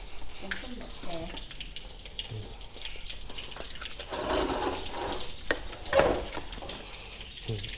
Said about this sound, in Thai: ทอดไส้กรอกครับ